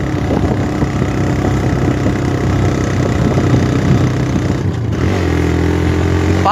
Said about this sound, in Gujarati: બાઇક ઉમકારા કરે છે